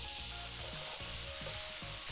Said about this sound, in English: So I'm just gonna put these on my griddle and heat it up just for a couple minutes to get them nice and warm